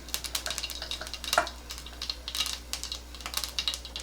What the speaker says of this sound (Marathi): मोहरी छान तडतडू द्यायची